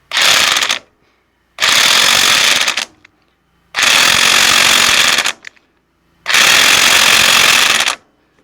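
Electric 1/2-inch impact wrench with a 15/16 socket tightening a part on a John Deere L100 lawn tractor with a 17 HP Briggs Intek engine: four loud, rattling hammering bursts of about a second each, separated by short silences.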